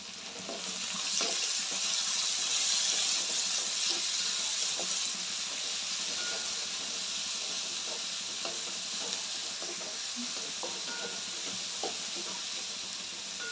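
Sliced onions fry in a pan with a steady, loud hiss and sizzle, sprinkled with small crackles and occasional stirring scrapes throughout.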